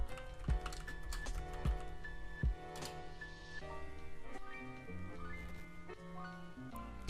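Quick, light keystrokes clatter on a computer keyboard as a search is typed, a short run of irregular taps heard close and quiet over soft background music.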